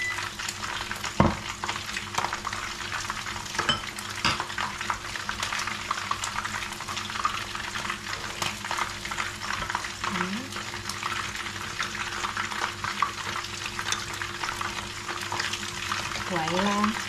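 Tamarind sauce stirred in a pan, a continuous close sizzle and bubbling with occasional scraping strokes, and a voice talking briefly in places.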